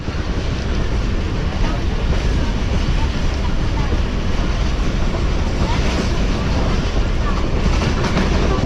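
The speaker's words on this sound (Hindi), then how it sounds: "कल्याण मवान रेलवे स्टेशन को स्किप कर रही है इस वक्त ट्रेन" A Subak Raftar railcar passes a station without stopping on the route toward Lahore, heard as a loud, steady rumble and rush with wind buffeting throughout.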